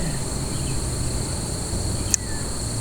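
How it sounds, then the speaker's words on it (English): Insects, likely crickets, hum steadily in the open air of a quiet natural setting, a constant high drone with a faint low rumble beneath and one brief sharp click near the end. "listen to all the insects in the air"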